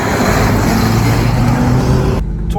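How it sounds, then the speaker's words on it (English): A Range Rover Classic's V8 engine runs with a smooth, continuous low drone close by, then drops off abruptly near the end. "Torquey V8 on the background."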